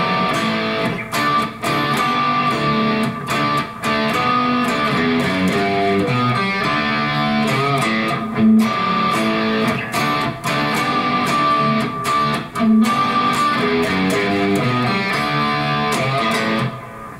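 Electric guitar plays the opening run of a song with full band backing, loud and continuous, with rhythmic chord hits throughout.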